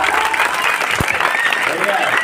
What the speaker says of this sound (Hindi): जोरदार तालियां बजाइए साहब